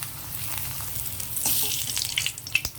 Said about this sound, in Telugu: నేనేమి ఇక్కడ అప్పడాలు వేపుకోవడానికి ఆయిల్ పెట్టుకున్నాను